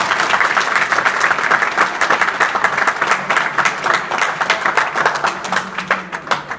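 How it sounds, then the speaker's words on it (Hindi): A school audience at Narayan Inter College in Lachhirampur, Azamgarh gives loud, dense applause to welcome the principal. It rolls steadily, then thins into more distinct individual claps toward the end. "तो जोरदार तालियों से सर का स्वागत करें।"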